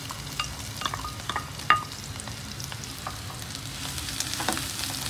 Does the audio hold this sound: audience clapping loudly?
no